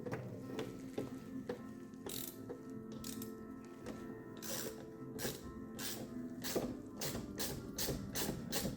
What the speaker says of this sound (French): Avec une petite clé de 10 pour le contre-écrou.